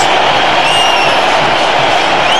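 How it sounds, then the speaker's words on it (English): A large cricket crowd at the Bangalore stadium roars and cheers during an India versus Australia one-day match, a loud, continuous wash of voices with a few whistles rising above. "The crowd's loving it."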